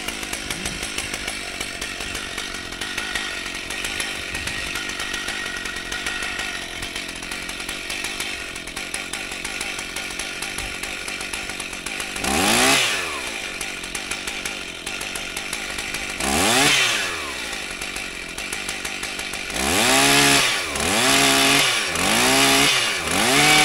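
Chainsaw cutting through a wooden beam during roof work on a house by a dam, engine droning steadily before three distinct cuts bite in near the end, the last a run of rapid rising-and-falling strokes.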